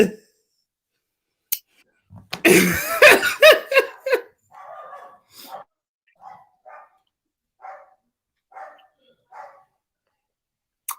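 A dog gives a burst of loud close barks and yips, then a run of smaller spaced yaps trailing off, with people talking and laughing around it.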